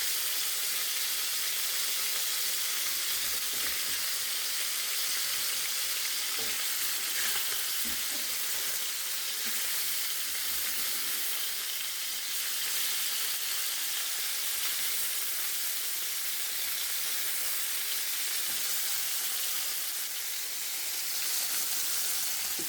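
Chicken skin fries in a pan with a steady, dense sizzle and crackle that stays loud and even throughout, broken only by occasional faint clicks and stirring, with no talking.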